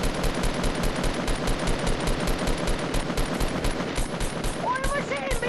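Rapid semi-automatic gunfire rattles in a video game match, a dense steady string of loud close shots running throughout, with a few faint electronic tones near the end.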